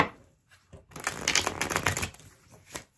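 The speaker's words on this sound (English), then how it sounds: "I'm going to give these one more shuffle" A deck of tarot cards is shuffled by hand nearby, with crisp riffling and flapping bursts that build into a dense rustle and then end with a soft tap.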